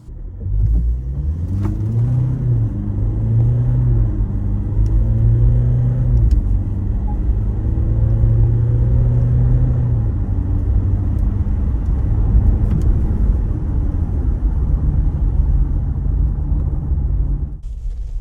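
A 2026 GWM Tank 300 with a 2.4 diesel engine accelerates hard from 0 to 100 km/h on the road, its engine droning loudly from inside the cabin as the pitch climbs through the gears with brief dips at each shift.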